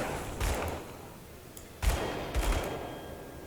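Shooting in Grim Dawn: a few loud, sharp shots spaced apart, with a low steady ambient background between them and no talk.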